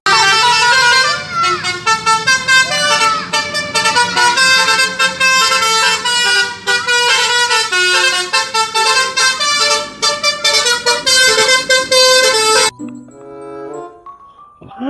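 An air horn on a Mansion bus plays a long, loud musical melody of repeated tones for about twelve seconds, then cuts off abruptly, leaving faint traffic.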